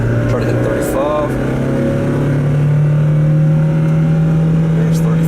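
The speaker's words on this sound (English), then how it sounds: "Accelerate up the hill, try to hit 35." An NB Mazda Miata MX5 accelerating up a hill on a test drive after a driveshaft repair, its engine droning loud and steady from inside the car as the pitch climbs smoothly, with no talk.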